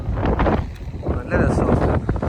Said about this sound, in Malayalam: നല്ല കാറ്റുണ്ട്, അതാണ് സീൻ.